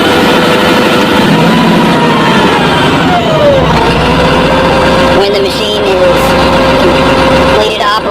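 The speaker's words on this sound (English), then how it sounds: "This will track the dozer forward." A bulldozer's engine runs loud and close with a steady heavy drone as the machine tracks forward, with shifting tones and clanks rising over it and a voice talking throughout.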